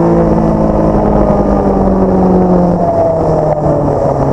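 Engine of a 2022 Suzuki GSX-S1000GT motorcycle, an inline-four derived from the K5 GSX-R, running loud and close with a continuous deep drone that shifts pitch slightly as it holds speed.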